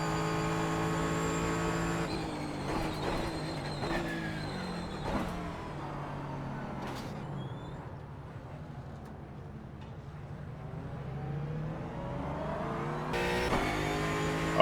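A race car lapping a circuit in a racing video game on cold tires and brakes, its engine droning steadily with rising and falling revs and brief bursts of acceleration, loud and continuous throughout.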